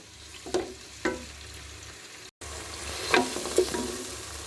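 Chopped onions frying in about three tablespoons of hot oil, building toward light brown, with a steady soft sizzle broken by several distinct stirring scrapes and clatters, close and moderately quiet, no talking.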